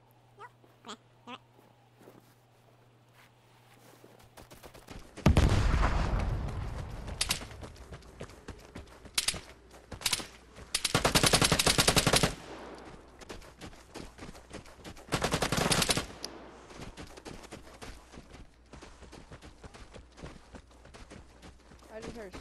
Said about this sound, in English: I just heard shots from over here, but I don't see him.